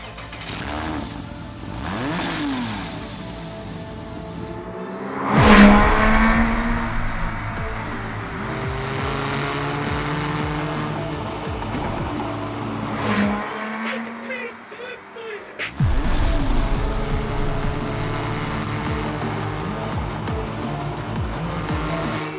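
A 2006 Porsche Cayman S engine catching and revving, with sharp rising and falling rev sweeps, loud bursts and a steady idle between, close by throughout.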